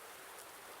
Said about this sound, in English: it's raining, and when it stops raining